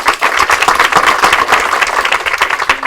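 Audience applause at a Cambodia Town community meeting about Anaheim Street renovations, a dense, steady patter of many hands clapping close by for the full length, with no talk.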